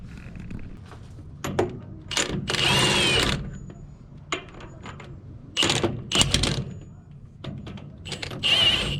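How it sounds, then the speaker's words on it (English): Power tool driving lug nuts onto an equipment trailer wheel, heard as short mechanical bursts of whirring and rattling with pauses in between, fairly close. "It's a lot of fun putting the lug nuts on."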